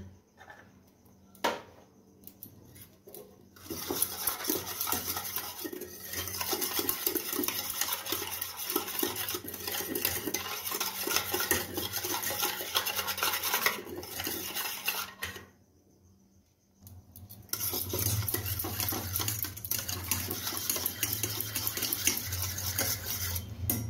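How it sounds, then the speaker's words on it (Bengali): A spoon stirring milk, powdered sugar, cornflour and cocoa powder together in a pan for hot chocolate, a continuous close-up scraping and swishing with two brief pauses. "দিয়ে দিলাম চিনি গুঁড়োটা, কর্নফ্লাওয়ার, কোকো পাউডার। আমি এগুলো সব একসাথে মিশিয়ে নেব।"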